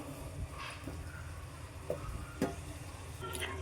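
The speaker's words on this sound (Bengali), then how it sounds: "দেওয়ার পর নাড়াচাড়া করবো হালকা এরপর দিয়ে দিচ্ছি আমি ক্যাপসিকামের টুকরাগুলো" Capsicum pieces are stirred in a hot pan of vegetable khichuri, with a steady oily sizzle under scraping stirs and a few sharp clinks of the utensil against the pan.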